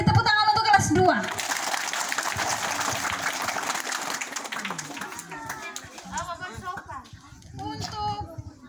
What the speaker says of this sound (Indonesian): Beri tepuk tangan untuk kelas 2.